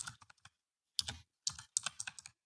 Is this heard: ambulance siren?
no